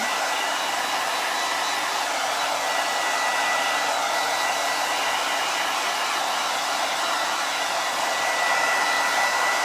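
A hair dryer blows steadily at full power, drying paint, a constant airy whoosh that fills the whole stretch without pause.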